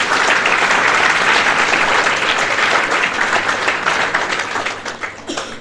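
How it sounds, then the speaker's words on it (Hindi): An audience breaks into loud, hearty clapping that holds strong for several seconds, then thins out and fades toward the end. "और वैष्णवी मैम के लिए भी जोरदार तालियां बजाइए।"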